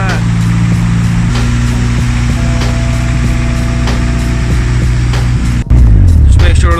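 A 500 BHP Toyota AE86 drift car engine runs loudly and steadily at a close idle with a constant drone, then the note shifts and rises near the end.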